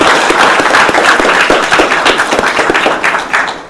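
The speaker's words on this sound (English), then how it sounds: "Please join me in a round of applause for all the doctors and nurses who are here." A crowd at a hospital facility in Augusta claps for doctors and nurses, loud and close, a dense round of applause that thins slightly toward the end.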